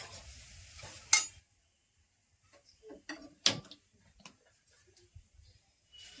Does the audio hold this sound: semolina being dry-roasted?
yes